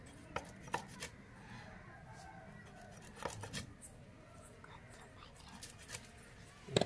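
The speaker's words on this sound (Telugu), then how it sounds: "దీని కూడా సన్నంగా ముక్కలు చేద్దాం." Dried fish being cut into thin pieces makes a run of sharp, crisp chops and snips, some in quick pairs and some spaced apart, close by over a quiet background.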